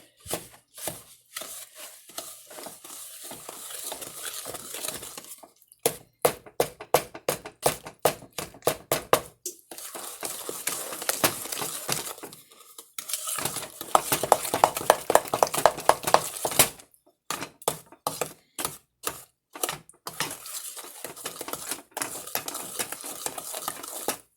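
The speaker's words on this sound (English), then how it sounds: "now I stir this all in" Chocolate chip cookie dough is stirred in a bowl, producing rapid rhythmic knocks and scrapes of the utensil in bursts of several seconds, separated by short pauses.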